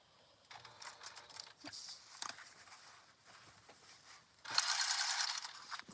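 A sewing machine stitches a seam on a park bag, producing short, faint mechanical bursts of clicking and whirring with brief pauses, ending in a louder run of stitching, with no voices.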